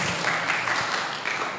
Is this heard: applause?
yes